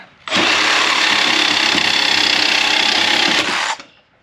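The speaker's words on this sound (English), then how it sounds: "got a torch blade on the Sawzall, so we can get this shock out of here" A loud reciprocating saw with a torch blade runs continuously for about three seconds, buzzing harshly as it cuts out a shock on a 2002 GMC Yukon XL, then stops abruptly.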